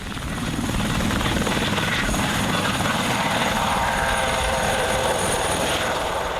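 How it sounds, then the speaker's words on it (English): A helicopter flies over a rally event, its rotor thump and engine roar loud and steady throughout, swelling in at the start and holding close overhead. "rent a chopper like these guys"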